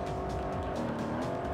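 Car engine droning steadily in the Juiced racing video game, a continuous loud motor tone with shifting pitch and faint tire noise, no voices over it.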